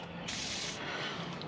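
A short burst of lubricant spray from an aerosol can hisses for about half a second onto camper trailer axle bolt threads and nuts, close by, then stops.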